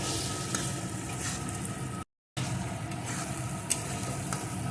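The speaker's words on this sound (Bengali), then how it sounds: "এখন সমস্ত মশলাটাকে সুন্দর করে কষিয়ে নেব" Spice paste with salt and turmeric sautéing for a crab curry, a dense, steady close sizzle that drops out for a moment before resuming.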